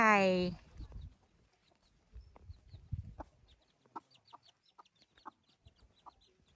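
After a brief high cry at the start, hens cluck in short irregular bursts nearby in a mountain village backyard in Myanmar, against a quiet outdoor background.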